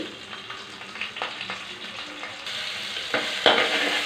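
Ginger paste and whole spices fry in hot oil for a potato masala rice, a soft steady sizzle with a few stirring scrapes, close and fairly quiet, growing brighter near the end.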